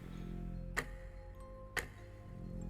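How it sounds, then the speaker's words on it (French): Two sharp clock ticks about a second apart stand out over a low, steady ambient drone in a tense horror-game scene. "vous entendez tous le cliquetis d'horloge"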